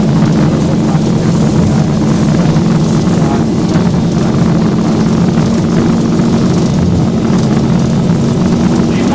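Southwest Airlines jet engines roar at takeoff thrust during the takeoff roll, a loud, steady broadband rumble with a constant low drone that continues unbroken throughout, with no voices over it.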